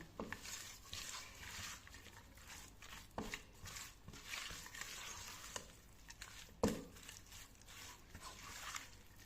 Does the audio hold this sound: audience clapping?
no